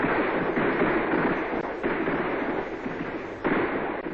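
An artillery barrage sound effect rolls on as a dense, continuous rumble of distant gunfire, with a few sharper bursts standing out from the steady roar.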